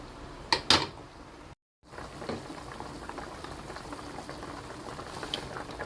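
Previously fried fish simmering into soup in a pot, a close, steady bubbling boil with a couple of sharp clatters at the start and a brief cut to silence before the bubbling resumes, no talk.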